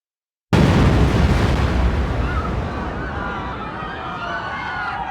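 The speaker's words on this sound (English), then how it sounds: "12 minutes later, the bomb went off." A truck bomb explodes in the B2 level of the World Trade Center's underground parking garage, a sudden loud blast after brief silence, followed by a long, heavy rumbling roar that slowly fades.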